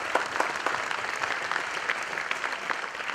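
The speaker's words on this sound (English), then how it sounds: "A big round of applause to Eric Lander and Chris Foster, guys." Steady applause from an audience at a men's hair styling event, dense clapping that holds at an even level throughout with no voices standing out.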